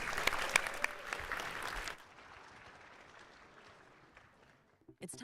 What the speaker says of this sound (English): let's have one more round of applause for our Startup Battlefield judges